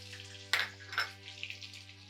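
Two chopped shallots dropped into hot oil set off a soft, quiet sizzle with a couple of brief crackling bursts as they hit the pan, over a faint steady low hum.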